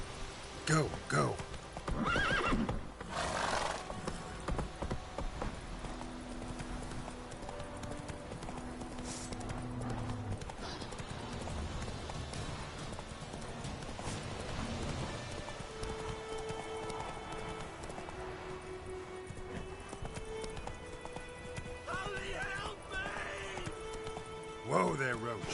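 A horse gallops in The Witcher 3 video game, with rapid hoof clip-clops and a whinny under game dialogue and other game sounds.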